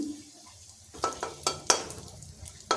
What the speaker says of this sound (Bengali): ফোড়নটা একটু ভেজে নিতে হবে